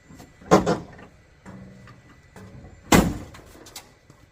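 The door of a 1970 Dodge Charger, long left sitting in dirt, shuts and latches with a sharp metallic thud, followed a couple of seconds later by a second solid slam, close and loud against a quiet room.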